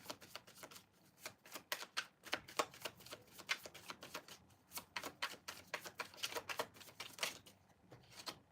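Tarot cards are shuffled and handled in a rapid, uneven run of soft flicks and slaps that continues through the whole stretch, close but very quiet, with no talking.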